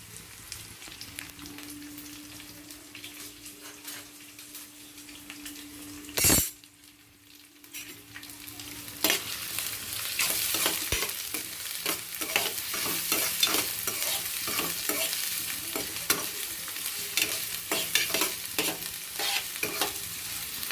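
Onions fry in a pan with a soft, steady sizzle while a utensil scrapes and stirs them in quick, irregular strokes, broken by one sharp metallic clank early on.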